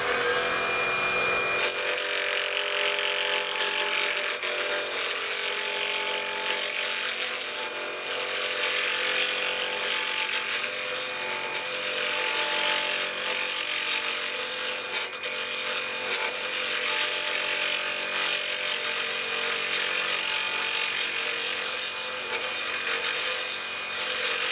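A wood lathe spins a drilled walnut blank for crochet handles while a tool rounds it out, making a continuous close scraping and whirring drone with a steady motor hum that runs without a break.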